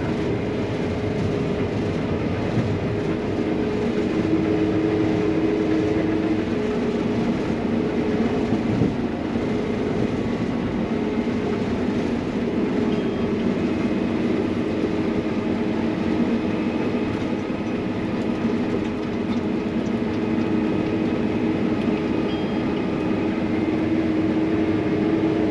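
A combine harvester cuts beans in the field while rolling along at about 5 mph, its engine and threshing machinery forming a loud, steady, continuous rumble and rattle throughout, with no voices.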